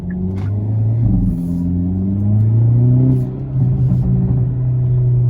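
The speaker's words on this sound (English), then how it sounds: "You can hear the exhaust pops, gets louder" A Hyundai Elantra N revs its engine in a deep, loud rumble, the pitch climbing and settling in steady surges with a few sharp exhaust pops breaking through.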